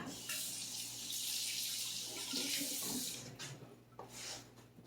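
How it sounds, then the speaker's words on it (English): Mixer beaters being rinsed under a running kitchen tap, with a steady rush of water hitting metal and the sink, close and continuous, then tapering off with a few splashes. "I'm gonna rinse my meat hooks"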